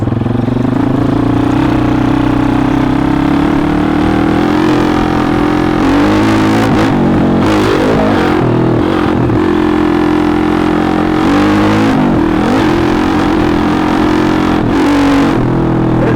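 A TaoTao 140cc pit bike engine revs loudly while being ridden, first ride after a clutch replacement, with the pitch rising and falling through repeated throttle changes and wind buffeting the microphone throughout.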